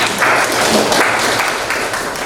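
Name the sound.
class applauding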